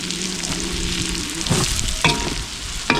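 Beef lung pieces deep-frying in hot oil give a steady close sizzle and crackle, with a few sharper spatters and stirring clinks toward the end and no talking.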